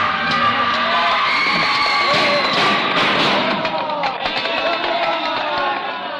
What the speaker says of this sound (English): hysterical mob sweeps through the streets, driven on by the lashing whips of the mounted police